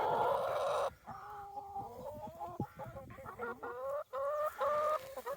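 Chickens cluck and murmur close by in a steady run of short warbling calls, with no one speaking.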